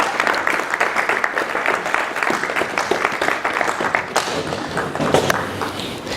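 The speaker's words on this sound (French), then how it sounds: "Est-ce que quelqu'un peut acclamer le Seigneur pour ces bonnes nouvelles?" A church congregation breaks into loud, sustained applause and clapping that fills the room steadily from start to finish, with scattered voices and cheers mixed in.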